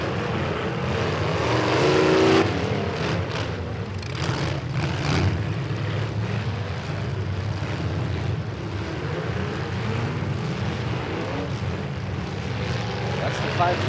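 Pro stock demolition derby cars roar and rumble at an outdoor arena, one of them running on three wheels, making a constant loud engine drone with scattered crunches and impacts while an announcer talks throughout.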